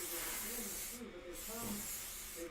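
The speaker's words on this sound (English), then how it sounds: "So I'm going to go ahead and spray this" Spray can misting fabric for quilting: a steady, close hiss runs throughout, breaking briefly twice, with a low voice murmuring faintly underneath.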